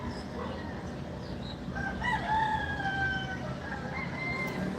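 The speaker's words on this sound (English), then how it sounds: "Are those roosters driving you crazy?" Roosters crowing outdoors in the Philippines, several long drawn-out calls rising over a steady hum of background noise, moderately distant and overlapping one another.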